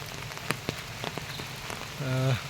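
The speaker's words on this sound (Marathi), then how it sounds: "भरपूर पाऊस लागला" Heavy monsoon rain in the Konkan countryside makes a steady hiss on surfaces, with a few sharp drips and knocks. Near the end a brief tonal hum rises briefly over it.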